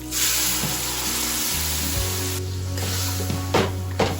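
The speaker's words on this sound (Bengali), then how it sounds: "মশলাটা আস্তে আস্তে কষিয়ে নেব" Onions and spice paste fry in a pan, a steady close sizzle with soft stirring scrapes and a low kitchen hum underneath.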